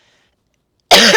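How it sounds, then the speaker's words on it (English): A single close, loud cough bursts out after a moment of near silence. "Excuse my cough."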